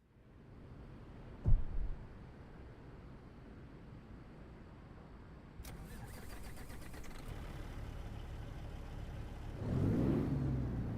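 A 625 King of the Hill truck engine in a trucking video game idles low and steady, with a short loud burst early on, then builds into a stronger revving drone toward the end.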